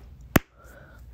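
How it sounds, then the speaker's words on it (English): A single sharp clap rings out once during a preschool action rhyme, short and close, followed by quiet. "give a little clap"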